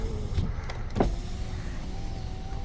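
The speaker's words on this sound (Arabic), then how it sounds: "معانا 4 ازاز كهرباء يمين" Electric power windows on a car, four windows in all, whirring as a motor drives the glass, a steady hum with a couple of brief bumps near the start and a continuous tone running through to the end, no talk.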